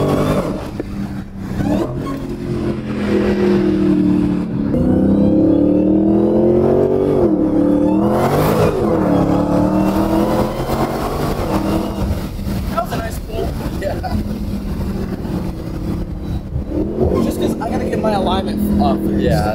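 A car engine revs and drones steadily over a bumpy road, its pitch rising and falling, while people talk over it throughout.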